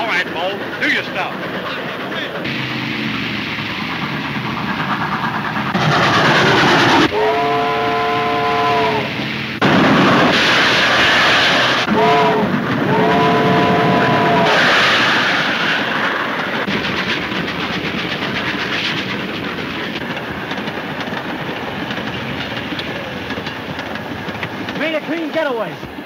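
A train in a 1934 film serial rumbles steadily on its rails with rhythmic clatter, and a whistle sounds in two bursts. The noise is loud and continuous while people speak over it.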